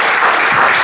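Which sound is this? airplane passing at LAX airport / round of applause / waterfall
round of applause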